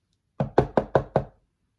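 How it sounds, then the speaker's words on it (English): Five quick, evenly spaced knocks on wood ring out crisply in a quiet room, each sharp rap decaying briefly before the next. "knock on wood"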